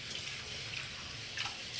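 Hot tap water runs steadily into a sink while a man rinses his face after shaving, a close, continuous splashing flow with small irregular splashes and no voices.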